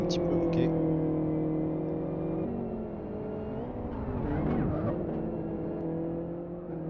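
Race car engines from the video game Live for Speed whine steadily with sliding pitch shifts as cars accelerate and pass, continuous and fairly loud, while someone talks over them.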